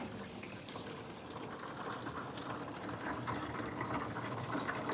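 Water pumped up into a hydroponic flood and drain system after a shut-off valve is closed, a steady broadband rush and gurgle of flowing liquid that holds constant and close throughout with no speech.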